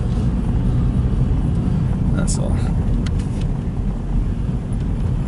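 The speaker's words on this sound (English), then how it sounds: "it's a tow truck picking up a car." A tow truck hauling away a Mexican taxi with a blown, overheated engine produces a loud, steady rumble of engine and road noise throughout, with a brief voice over it.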